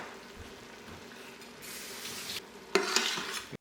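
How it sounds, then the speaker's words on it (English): A pot of chili with cumin and plum tomato sauce stirred on the stove: soft sizzling underneath, then scraping spoon strokes and a louder burst of bubbling and clatter near the end. "go ahead and give that a stir"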